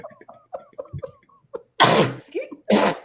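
A single loud sneeze bursts out after a stretch of soft vocal sounds, followed by a second sharp sneeze-like burst a moment later, close and abrupt.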